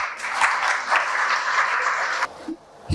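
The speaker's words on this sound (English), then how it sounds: "Round of applause for him." An audience applauds to welcome a managing director to a panel discussion, loud dense clapping that stops abruptly near the end, followed by a brief low sound and a last faint clap.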